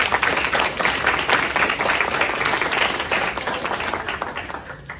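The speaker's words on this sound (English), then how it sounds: "Let's give a round of applause to our volunteers" A crowd at a school board candidates forum claps steadily for the volunteers, a dense, even patter of many hands that holds loud throughout and only slightly eases toward the end.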